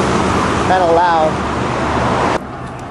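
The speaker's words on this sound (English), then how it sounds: "Now some more cars from the other side going by." Cars pass by on a nearby road in a loud, continuous roar of traffic that drops off sharply near the end, with a brief bird chirp over the noise.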